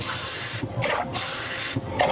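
Water for oatmeal is poured into a cooking pot in several short, splashing bursts separated by brief pauses, heard up close.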